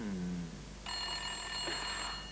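A green telephone rings with a bright, sustained electronic tone that starts partway through and holds steadily, clear and fairly close in a quiet room.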